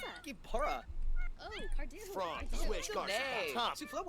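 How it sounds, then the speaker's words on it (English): Cats meow in the video game Sims 4, a busy run of overlapping, rising and falling mewing calls over low background hum. "The cats are very vocal right now."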